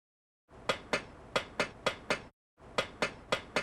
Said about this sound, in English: This can be done by sharply tapping the bricks with the edge of your bricklaying trowel.